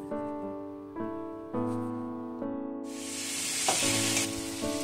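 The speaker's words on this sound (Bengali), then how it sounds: "এবার ভালো করে নাড়াচাড়া করে নেবে।" Food seasoned with salt and turmeric sizzles in a frying pan while a utensil stirs it, a steady hiss swelling louder toward the end over a tonal hum.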